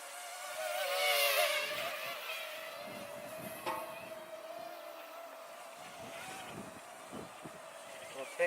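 Parrot Mambo drone propellers buzzing in a high, thin whine while fighting wind, steady but faint and distant, with wind noise and a few bumps around it.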